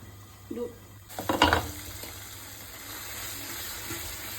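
Tomato puree and spices for rajma curry get a brief scraping stir in a pan around the middle, followed by a soft, steady simmering sizzle.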